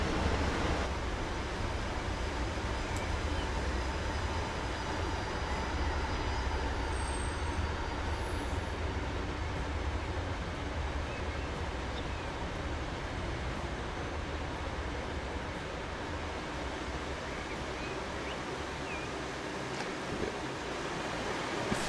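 A modded E 18 electric locomotive runs in Transport Fever 2, heard from outside as a steady, continuous rumble and hum with rail noise, constant in level throughout and with no talk.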